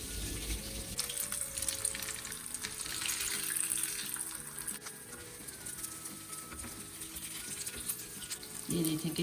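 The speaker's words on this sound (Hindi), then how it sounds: "कटलेट्स को अंडे और दूध के बैटर में डिप करके मीडियम हॉट ऑयल में फ्राई कर लेंगे।" Chicken potato cutlets dipped in egg and milk batter shallow fry in medium-hot oil, giving a steady, close crackling sizzle with soft pattering that continues evenly throughout, with no talking.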